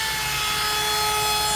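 Wooden cabinet face frames being sanded in a busy woodworking shop, a steady, loud abrasive rasp with machine whine running continuously and close.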